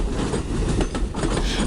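A Norfolk Southern train passes close by with a loud, continuous rumbling roar and rhythmic wheel clatter on the rails, and no voices are heard.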